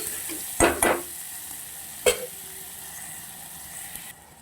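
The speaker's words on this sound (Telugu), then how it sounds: "ఈ గోల్డెన్ కలర్ వచ్చినంత వరకు అయితే వేపుకోవాలి" Onions and green chillies fry in a new pressure cooker until golden, giving a steady soft sizzle broken by a few sharp clinks of stirring, with no talking.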